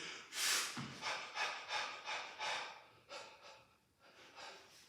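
A person pants in a class, about eight rhythmic breaths in and out, close and fairly loud, with a short pause before a final breath.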